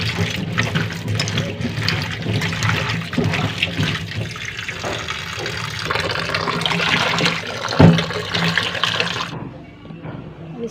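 Cut raw green mangoes washed in water in a kitchen, with steady running and splashing water, a brief louder clunk near the end before the sound drops off.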